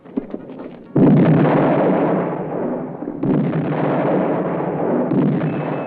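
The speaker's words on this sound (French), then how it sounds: "La batterie du canon continue à tirer inexorablement" Heavy booming blasts of cannon fire roll out one after another, loud and reverberant, with a rumbling tail between shots.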